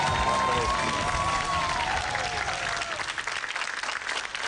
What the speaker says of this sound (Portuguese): Rui Miguel Tavares, uma salva de palmas.